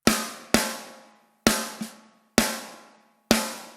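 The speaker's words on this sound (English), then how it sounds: "So this is the punk snare, the One Hit Wonder pop punk snare." A pop punk snare drum sample is hit alone six times at an uneven pace, each crack bright and snappy with a short ringing tail, with a softer ghost hit between two of them.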